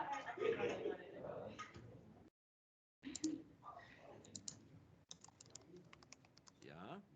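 Typing on a computer keyboard, quick clusters of light key clicks between stretches of talking, one brief silent gap.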